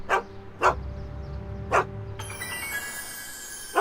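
Einstein the dog from the Back to the Future video game barks four times in short, sharp, evenly spaced yaps over a low game hum, with a bright electronic tone rising partway through.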